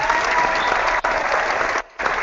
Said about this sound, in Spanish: Un aplauso para Sergio, por favor.